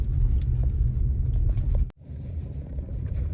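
A car speeds along a road, its tyres and engine making a loud, steady low rumble heard from inside the cabin, with a brief sharp dip near the middle before the roar resumes.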